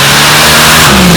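A 526 cubic inch blown Hemi drag car with a billet aluminum block and 14-71 blower roars down the drag strip, loud and continuous throughout.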